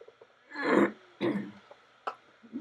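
A person clears their throat twice in rough, gravelly bursts, then gives a small click of the throat; quiet between.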